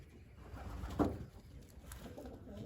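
Young racing pigeons coo softly on a loft landing pad, with a few low throaty coos and faint rustling at a modest distance, quiet and without talking.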